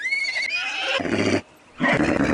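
Horse neighing in the video game Black & White, a loud whinny with falling harmonic tones, then a break of harsher broadband roaring, a brief quiet gap and another rough burst.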